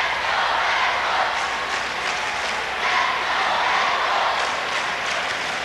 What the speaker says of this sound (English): Tremendous crowd here tonight.